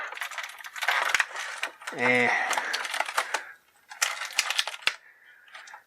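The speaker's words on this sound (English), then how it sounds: "we're going to very gently pull that tape off" Tape is peeled off the cape of a NECA Teenage Mutant Ninja Turtles Shredder figure during an unboxing, giving a short rising rip amid crinkly plastic packaging handling, close and fairly loud.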